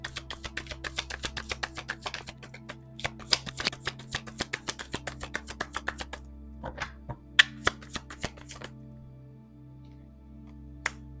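A character oracle card deck is shuffled by hand, giving rapid riffling flutters and soft slaps in repeated bursts, close and crisp, trailing off into a few final taps, with no speech.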